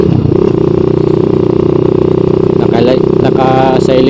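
A Gamma 200 motorcycle fitted with an SC Project muffler and silencer idles loudly and close, with a throbbing, rapid exhaust pulse. Someone talks over it in the second half.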